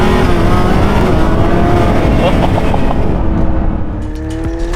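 A V12 car engine revving loud and close, a sustained, dense roar with shifting pitch that eases slightly toward the end.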